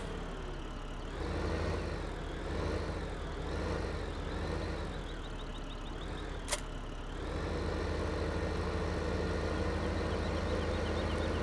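Tractor idling in Farming Simulator 15 during haymaking, a low steady engine drone with a slight wavering pulse and one sharp click partway through, no voices.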